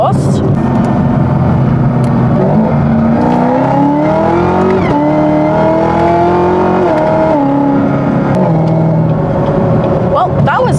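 A 750 WHP Camaro ZL1 pulls hard onto a freeway, loud engine roar rising in pitch through gears with brief shift dips, heard from inside the car with wind noise.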